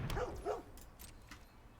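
Digital dog card in Magic: The Gathering Arena giving two quick yipping barks at the start, then faint game clicks and chimes.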